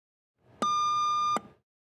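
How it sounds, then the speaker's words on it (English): A Doppler monitor sounds its test beep, one sustained electronic tone lasting under a second, clean and steady, with faint background hum before and after. "If no tone or beep is heard, maintenance is required."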